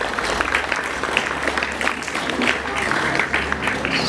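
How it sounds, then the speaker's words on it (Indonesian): An audience claps for a guest being welcomed at an Islamic boarding school gathering, a moderate, steady patter of applause mixed with some voices. "Tepuk tangan untuk beliau."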